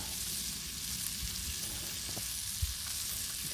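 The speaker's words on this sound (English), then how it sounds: "butter cooking off." Butter sizzling on a hot Blackstone griddle while turkey burgers cook, a loud, steady hiss with fine crackles and no talk over it.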